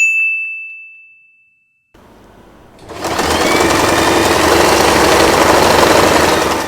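After a fading electronic beep and a brief pause, a sewing machine starts up on scrunchie fabric and runs with a steady, loud, close mechanical whir and rapid needle chatter.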